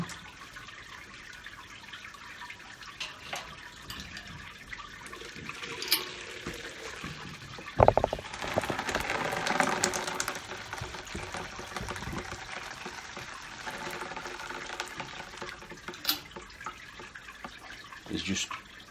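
Water trickles and splashes irregularly during home beer brewing on a Hopcat setup, faint at first and then a louder gush midway, with occasional clinks and quiet talk.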